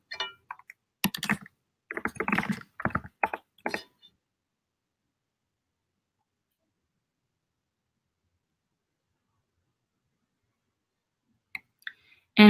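Quick bursts of close computer keyboard typing and mouse clicks, a cluster of taps in the first few seconds, then near silence until a couple of faint clicks at the end.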